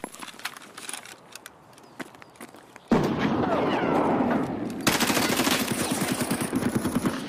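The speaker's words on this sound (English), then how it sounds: "I'm gonna throw a nade down there." Grenade explosion and gunfire in Escape From Tarkov: sparse sharp shots, then a sudden loud burst followed by sustained rattling fire and rapid cracks, with players talking over the combat.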